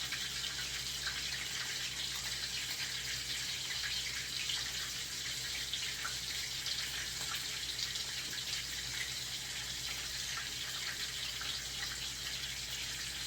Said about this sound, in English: I'll rinse it off.